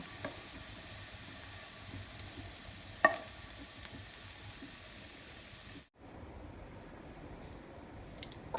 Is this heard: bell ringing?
no